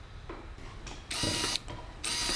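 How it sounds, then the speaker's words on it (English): A wooden toolbox piece being clamped to a workbench gives a quick series of close ratcheting clicks, with the loudest bursts coming in two dense stretches. "So I'm going to clamp it to my workbench."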